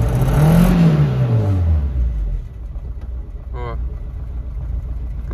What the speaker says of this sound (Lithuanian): Gazavus, apsukos tolygis.